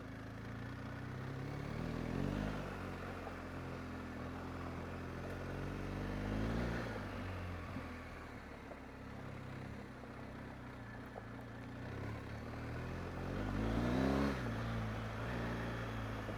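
BMW 1250 GSA motorcycle riding along a gravel two-track road, a steady engine drone with rising and falling revs and clattering tyre noise on loose gravel, no talking.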